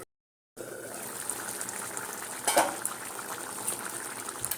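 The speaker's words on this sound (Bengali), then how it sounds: "এইভাবে টক গিয়ে ফুটছে" A covered pot of dal with sour seasoning simmering, a soft continuous bubbling and watery burble after a brief silent start, with one louder splash or gurgle midway.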